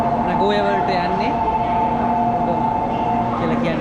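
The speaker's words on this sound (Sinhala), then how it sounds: "තව පොඩ්ඩකින් යනවා ට්‍රේන් එක" A Shinkansen bullet train in Japan rumbles at a station on the way to Nagoya, with a steady low drone and sustained tonal whine, close and loud, while a person talks over it.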